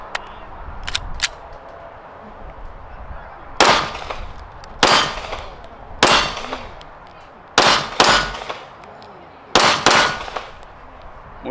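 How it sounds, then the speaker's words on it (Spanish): Shots from a Springfield Echelon pistol, loud and close, fired singly and in quick pairs with pauses between, each sharp crack followed by a short ringing tail. "Voy a seguir haciendo más disparitos."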